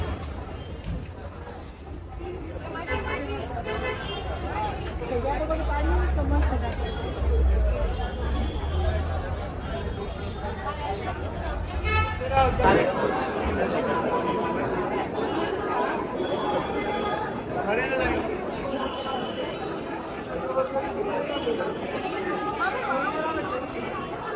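Dense crowd chatter fills a packed Ganpati festival gathering, a steady babble of many nearby voices with occasional louder calls, plus a low rumbling tone during the first half.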